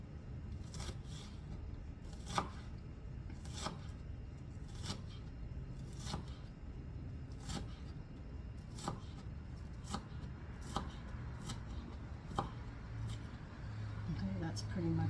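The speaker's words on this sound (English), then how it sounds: "That's pretty much the chopping." Vegetables for a brown rice salad with fennel and mushrooms are chopped with a knife on a board, producing faint, sharp, evenly spaced taps about once a second over low background noise.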